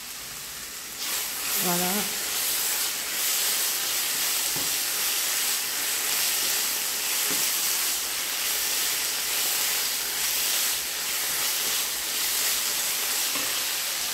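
Vegetables and mushrooms sautéing in a pan beside salted cod dish preparation: a loud, continuous hiss and sizzle of frying with steam, close up, a brief voice speaking near the start and occasional faint clinks.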